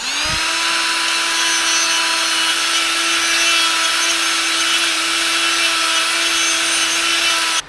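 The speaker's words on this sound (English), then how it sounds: "So a little die grinder." A small die grinder runs steadily at high speed, grinding rubber out of a pipe fitting, with a sharp whine that spins up fast and holds loud and constant the whole time with no talking.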